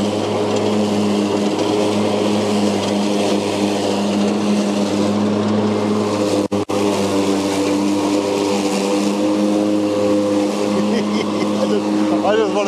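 Engine of a Z6 ride-on mower running steadily, a loud, close, continuous drone with a steady hum that holds throughout, broken only by a momentary dropout partway through.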